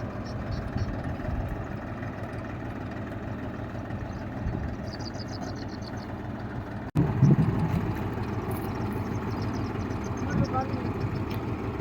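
A borewell water pump motor runs steadily through a check, a continuous low engine-like drone with a brief jolt and louder surge midway, with people talking faintly over it.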